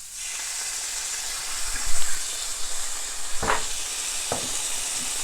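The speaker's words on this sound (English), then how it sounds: "we're going to put in some orange ginger stir fry sauce and marinade" Orange ginger stir-fry sauce and marinade hit a hot pan of pork and vegetables, giving a steady loud sizzle and hiss with a few sharper spatters and stirring scrapes.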